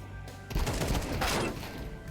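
Rapid bursts of AK rifle fire in the Outlast video game, a loud dense volley starting after a brief quiet lead-in and running for over a second before tapering into lingering game noise.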